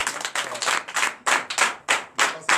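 A church congregation clapping in rhythmic bursts, several quick claps per second from many hands, close and loud, with no voices over it.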